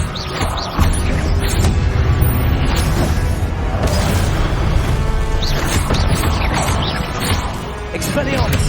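A spell cast in the Hogwarts Legacy video game is followed by booming, crashing impacts inside a dense, continuous roar of loud battle noise, with voices mixed in throughout.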